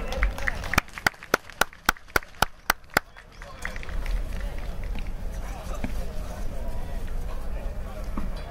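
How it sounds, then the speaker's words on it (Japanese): Applause from the crowd at an X-League X3 West American football game at Tsurumi Ryokuchi stadium: a burst of sharp rhythmic claps at first, then a broad, sustained wash of clapping and crowd noise. "両チームの選手にもう一度温かい拍手をお送りください。"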